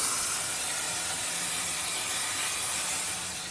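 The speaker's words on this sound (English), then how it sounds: "It's all the bloody water trapped inside the wagon that's being turned into steam by the heat from the" Steam hisses loudly and steadily from water trapped inside a heated railway wagon near a boiler, a dense continuous rush that tails off slightly at the end, with no talk.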